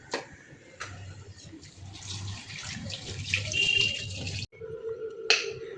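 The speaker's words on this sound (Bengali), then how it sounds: "মাছ ধোয়া কমপ্লিট।" Fish being rinsed in a kitchen sink under a running tap: steady splashing water for several seconds, a brief gap, then a short resumed trickle with a few clinks, fairly close and alone.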